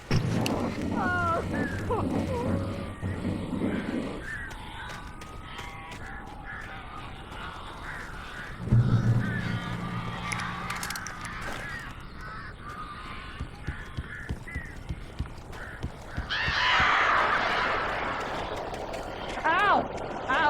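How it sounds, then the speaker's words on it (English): Birds cawing like crows inside a cabin in the video game Alan Wake Remastered, repeated harsh calls over eerie game ambience and music, with voices speaking between them. "These birds are weird."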